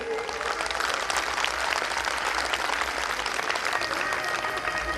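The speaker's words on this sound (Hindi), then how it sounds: "एक बार फिर से जोरदार तालियां बजाइए" An audience at a gathering at the Vighna Vinashini temple claps steadily, dense and fairly loud applause that holds without letting up.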